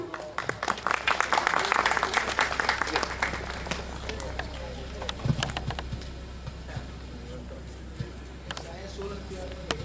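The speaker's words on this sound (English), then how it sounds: "Encourage him with a big round of applause, everyone." Steady clapping from a crowd at a Republic Day celebration fills the clip, a dense patter of many hands that fades a little toward the end.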